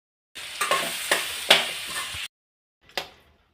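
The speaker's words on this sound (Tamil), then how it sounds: "இப்போ இந்த பொட்டேட்டோ எல்லாம் இதில் சேர்த்துக்கலாம்." Diced potatoes being added and stirred into a tomato masala frying in a pan, sizzling with several scraping stirs, a pause, then one more brief stir, close up.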